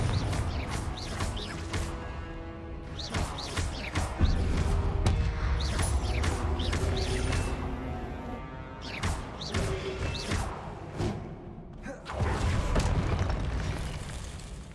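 A Confringo blasting spell goes off in Hogwarts Legacy amid a busy spell fight, with repeated booming bursts and crackling impacts that follow one another in rapid succession. The explosions are loud and layered over dense combat noise.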